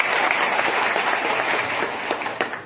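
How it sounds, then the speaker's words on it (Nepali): Loud, dense applause from a seminar audience in a hall, many hands clapping steadily for nearly three seconds with a few sharper individual claps near the end. "एकदमै जोरदार ताली उहाँहरूलाई दिउँ।"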